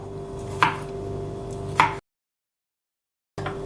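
Onion and garlic are chopped by hand on a board: two distinct, crisp knife strikes, a silent gap, then another chop starting.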